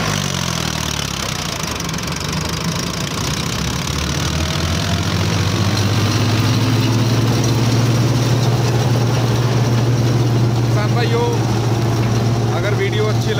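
A small Arjun 605 Ultra tractor engine idles nearby with a steady low throb that rises slightly in pitch partway through, continuous and loud, with faint voices in the background.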